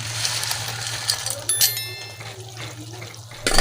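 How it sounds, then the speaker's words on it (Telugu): Boondi dropped into boiling tamarind rasam gives a steady watery bubbling and hiss over a low hum, with a few brief clinks and a louder burst near the end. "చారు మరిగింది, బూందీ వేసేస్తున్నాను."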